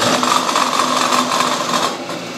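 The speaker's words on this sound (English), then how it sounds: "he's making steering rack mount brackets on the milling machine." A milling machine enlarges a 3/8-inch hole to 1/2 inch in a steering rack mount bracket, giving a loud, close, continuous grinding cut that eases off near the end.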